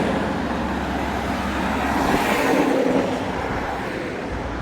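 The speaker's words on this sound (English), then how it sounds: "Wait for these trucks." Steady roadway rumble of heavy trucks going by close, building to a louder pass around the middle and then easing, with no talking over it.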